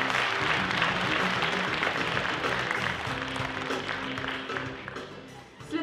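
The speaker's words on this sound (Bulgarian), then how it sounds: "Аплодисменти за всички тях!" An audience applauds after performers are introduced on stage, a dense, steady patter of clapping that fades slightly toward the end.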